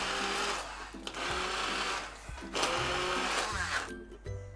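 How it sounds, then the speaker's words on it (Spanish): Hand blender whirring steadily through a softened bread pudding mixture of soaked stale bread, with brief dips in pitch as it works, loud and close with no talk. "lo removemos todo bien, que se reblandezca, y lo trituraremos con una batidora"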